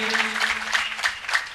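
Audience at a religious discourse in a village hall clapping in a brief burst, about five soft rhythmic claps spaced evenly, sparse and moderately close.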